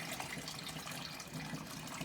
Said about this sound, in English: Just fill that with pool water.